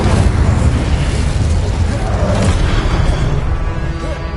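A Confringo spell explosion in Hogwarts Legacy bursts loudly, a dense rumbling blast that fills the short moment with sustained crackling energy and low booms.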